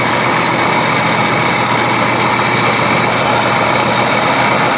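A small engine idles steadily and loudly during a carburetor adjustment, with a constant even drone and no change in pace, close up and alone.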